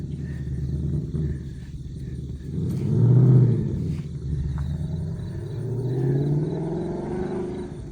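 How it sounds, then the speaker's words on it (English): A Ford Mustang engine rumbles low and raspy through its exhaust nearby, swelling twice with throttle before settling back to a throaty idle. "So listen to this Mustang. Mustang just has such a really raspy noise to it."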